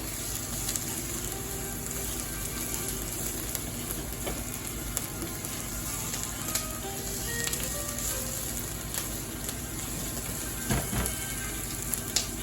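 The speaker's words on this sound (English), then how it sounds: "So the onions are cooking now nicely." Onions frying on high heat in a heavy-base non-stick pan with very little oil, a steady, even sizzle running throughout at moderate distance with no voices.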